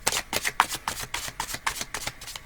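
A deck of cards being shuffled in a steady riffling rhythm, close up, with repeated crisp flutters and no talking.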